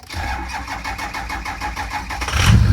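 A 6.0 Powerstroke diesel engine with nearly dead batteries cranks with a rapid, rhythmic churning from the starter, close and steady, then catches briefly with a louder rumble at the end.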